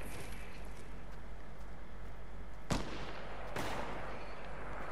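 Two sharp gunshots in a video game, loud cracks about a second apart over a steady background hum, with no talk.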